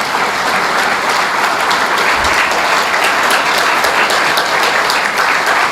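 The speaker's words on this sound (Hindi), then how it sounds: "उनकी ताली बजा दीजिए, उनका स्वागत करिए" A seated audience at a talk gives a loud, sustained round of applause to welcome an author, continuous dense clapping from many hands that holds steady from start to finish.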